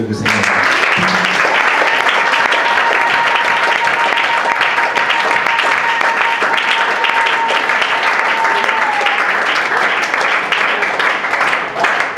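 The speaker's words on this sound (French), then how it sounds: "Est-ce qu'on peut acclamer le Seigneur?" A church congregation applauds to acclaim the Lord, a loud sustained wash of many hands clapping together for about twelve seconds, with a long held tone and some voices mixed in.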